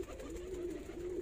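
A pigeon coos softly in repeated low, rolling notes, fairly close, with faint background hiss.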